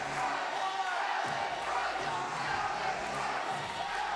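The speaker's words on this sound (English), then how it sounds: "Listen to this crowd." A large live pro wrestling crowd roars and cheers continuously at a singles match, a dense, loud wash of voices with scattered whoops and shouts filling the arena.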